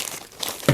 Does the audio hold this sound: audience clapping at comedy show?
no